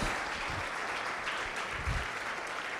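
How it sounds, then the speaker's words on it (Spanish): Applause from a church congregation at a pentecostal-style worship service fills the space, a steady, dense clapping that holds evenly throughout with a few heavier swells. "Entonces dale el más grande aplauso"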